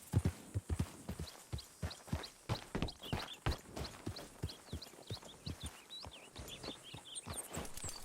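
Horse hooves clip-clop in a steady walking rhythm while riding in Red Dead Redemption 2, close and distinct, with soft ambient background and no talk.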